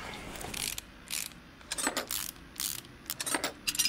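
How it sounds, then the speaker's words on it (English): Removing a brake caliper in the Car Mechanic Simulator 2018 video game gives a series of short metallic ratcheting and clinking bursts, close and fairly loud, with brief pauses between them. "Take the caliper off."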